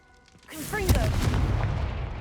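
Confringo blasting spell going off in the Hogwarts Legacy video game: a loud booming explosion after a short quiet lead-in, with a brief spoken shout at the start and a rumbling, crackling tail that sustains to the end.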